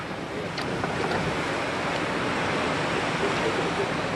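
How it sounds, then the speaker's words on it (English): Roaring, steady hurricane wind (Hurricane Andrew, gusts around 95 mph, Fort Lauderdale) battering the microphone, a dense loud rush with gusts and a voice faintly under it. "Cranking wind. We're doing about 95 mile an hour gusts here."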